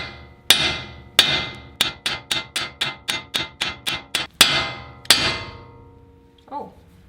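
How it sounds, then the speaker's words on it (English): A hammer strikes the flat section of a suspension joint on a 2020 Toyota Tacoma TRD Pro during a Westcott Designs lift kit install, about fifteen sharp, ringing metallic blows in a quick, steady rhythm, close and loud, then stopping. "we're going to use our hammer to separate these two"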